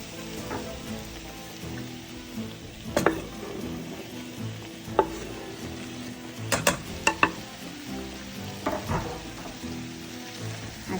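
Tomatoes sizzle in a pan with ginger and broad beans, a steady frying hiss broken by sharp clinks and scrapes of stirring against the pan, close up and with no talk.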